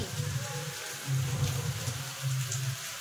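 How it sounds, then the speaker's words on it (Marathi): Heavy rain pours down steadily at a farmhouse, heard from a balcony, in a dense, continuous hiss, with no voices. "आणि पाऊस पडतो एकदम सुसाट मध्ये झिंगाट"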